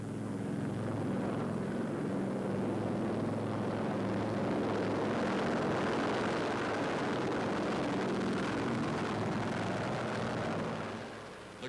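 The four-engine Martin Mars experimental Navy flying boat drones steadily in flight, a thick, continuous roar of piston engines and propellers with no break.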